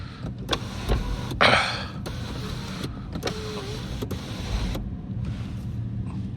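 Electric roof panel on a 2014 F56 Mini One closing, a steady motor whir running through with faint clicks and a brief louder rush partway, heard up close inside the car.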